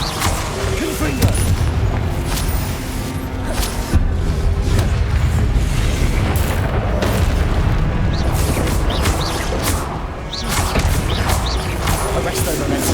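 Fiery spell explosions from the Confringo curse in the Hogwarts Legacy video game, loud, dense booming blasts and crashes that run continuously with no pause, with no voices.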